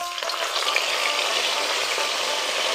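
Pumpkin leaves sizzle and spit steadily in hot mustard oil as Bengali kumro pata bora fritters fry, a dense, close, continuous crackle with no break.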